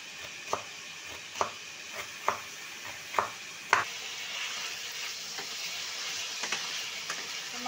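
Chicken for a chicken curry fries in a pan while a utensil stirs it, giving about five evenly spaced scraping knocks and then a steady close sizzle with a few softer stirs.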